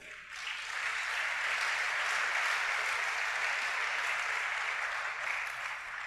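A church congregation breaks into sustained applause during a sermon, a dense, steady wash of clapping that swells early and holds at an even level throughout, with no voices rising above it.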